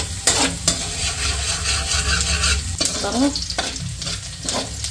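Garlic and onion sauté in hot oil for pork-hock kare-kare, cooked indoors, with a steady close sizzle and scraping stir strokes throughout; a brief word is spoken over it.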